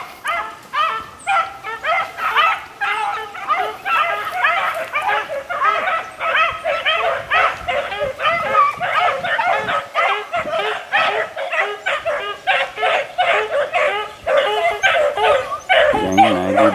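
Four-month-old puppies outdoors yip, whimper and bark almost continuously in a dense, overlapping chorus, fairly close and loud throughout.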